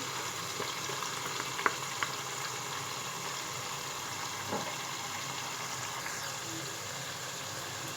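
Beef karahi gosht frying with yogurt over a high flame gives a steady, moderately quiet sizzle and bubbling hiss, with a couple of faint utensil clicks, close by and without voices.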